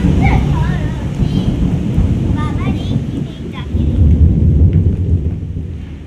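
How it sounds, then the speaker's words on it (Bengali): Thunder rumbles low and heavy through a rainstorm near a house, a sustained deep roll with steady rain hiss underneath, while chirping birds and a voice are faintly audible over it. "দেখেছো ফচ করে মেঘ ডাকছে, কেমন করে মেঘ ডাকছে।"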